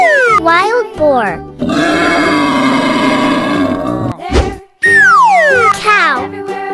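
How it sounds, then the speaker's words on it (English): Wild boar grunts and roars in a playful cartoon setting, a long rough growling grunt in the middle framed by squeaky childlike voices and tonal effects, loud and close. "Wild boar."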